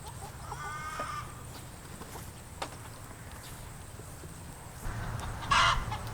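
Cornish Cross chickens on a farm cluck and call intermittently against outdoor background noise, with a few brief knocks and one louder squawk near the end.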